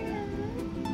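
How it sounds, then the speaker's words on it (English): A cat meows in the cooking video game Overcooked! 2, a short drawn-out tonal mew over dense background game music and noise, heard briefly and fairly loud. "Oh, hey, it's a cat."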